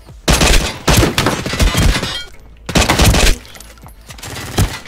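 Rapid bursts of Glock pistol gunfire in a video game, loud and close, arriving in dense volleys separated by short gaps.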